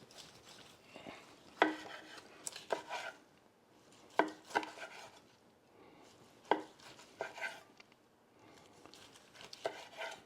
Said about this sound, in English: we'll come on back here and chop up that steak